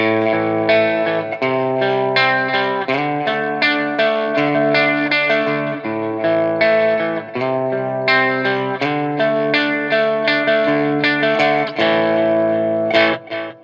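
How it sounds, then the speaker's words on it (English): Electric guitar riffing through an amp with echoing delay repeats, loud and continuous chords and single notes in a steady rhythmic pattern. "Now I got the delay turned on for some more effects."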